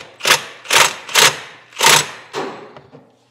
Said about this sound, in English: I'm gonna hit it a little bit with my impact.